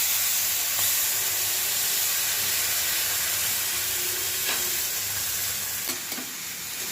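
Steady, loud sizzling and hissing fills the whole stretch as about two cups of water hit red-fried semolina (sooji) in a hot pan, a continuous broadband steam rush with a few faint clicks near the end.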